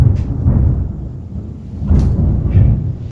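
Thunder rolls low and deep in rainy weather, a continuous rumbling with swelling peaks, loud and close, with no speech over it.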